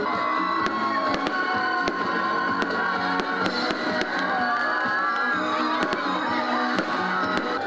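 Sharp fireworks bursts from an Independence Day salute in Ukraine pop at irregular intervals over a continuous background of crowd noise and distant cheering.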